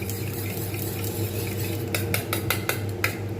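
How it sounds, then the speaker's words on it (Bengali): Three eggs with a pinch of salt are whisked in a bowl for a homemade mixed fried rice, a steady clatter of utensil against the bowl that turns into sharper repeated clinks toward the end, with a low kitchen hum beneath and no talking. "এখানে ডিম 3টে ফাটিয়ে নিয়েছি, এতে একটুখানি লবণ দিয়ে দেবো, এটা ভালো করে"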